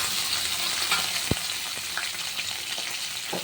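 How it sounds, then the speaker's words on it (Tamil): Green chili, shallots and curry leaves sautéing with chana dal in oil, a continuous crackling fry with a sharp utensil knock near the start and light stirring scrapes after. "ஒன்றா சேர்த்து நல்லா வதக்கிக்கலாம்"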